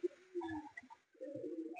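Malwai pigeon with yellow eyes cooing close by, two soft low throaty coo phrases separated by a brief pause, no talk.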